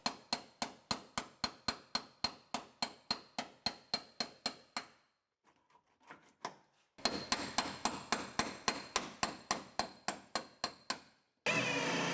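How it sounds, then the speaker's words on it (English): A hammer knocks drilled-out spot welds loose on the steel body of a 2015 donor car, with sharp, evenly spaced metallic blows in a fast steady rhythm, a brief pause with faint scraping, then another run of strikes. "we can knock our spot welds loose"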